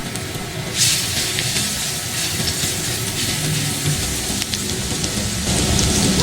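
Garlic sizzles in hot cooking oil for Filipino vegetable lumpia, a steady loud hiss and crackle that runs continuously without talk.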